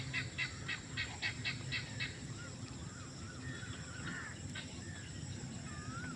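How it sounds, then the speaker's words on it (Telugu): Frogs croak in a village during steady rain, with a quick run of repeated calls at first and then scattered croaks over a constant wash of rainfall. "కప్పలు బెక్క బెక్క బెక్కమని అరుస్తున్నాయి"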